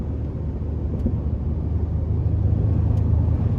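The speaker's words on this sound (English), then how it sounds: "But the turbos definitely kick in, do their thing." A 2013 Ford F-150 XLT SuperCrew with the 3.5-liter twin-turbo engine accelerating, heard from inside the cab as a steady low rumble and road roar that builds slightly in loudness, with no talking.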